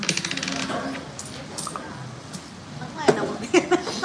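Coins clink and drop while paying at a TamJai restaurant counter, a few scattered metallic jingles near the end, mixed with people talking.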